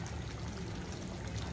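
Coconut milk pours steadily into a pot of kaldereta, a close, continuous liquid stream with no talk.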